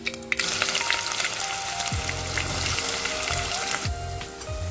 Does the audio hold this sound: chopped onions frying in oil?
yes